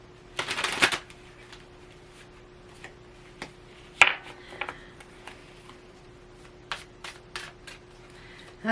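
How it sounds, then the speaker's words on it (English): Tarot cards shuffled by hand in a quiet room: a dense riffling burst near the start, then scattered soft flicks and card slaps with pauses between, close and fairly faint, no voices. "let's pull some more cards on this"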